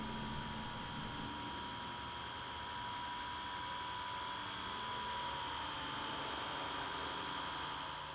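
Airwolf-style belt-drive R/C helicopter flying outdoors, a steady high-pitched rotor and motor whine with a faint airy hum, constant and fairly distant, no talk.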